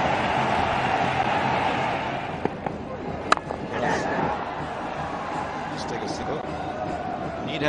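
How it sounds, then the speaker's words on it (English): Cricket crowd at Chittagong during a 2004 Bangladesh match, giving a steady, distant round of applause that stays under a commentator's voice. "Nice round of applause from the ground and the bowler himself."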